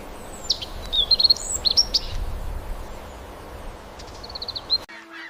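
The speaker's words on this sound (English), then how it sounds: "The birds." Birds chirping in a documentary about prehistoric mammals, with several high twittering calls over a soft low background rumble before the sound cuts off.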